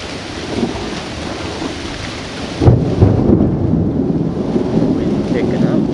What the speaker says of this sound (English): And you hear the thunder and lightning.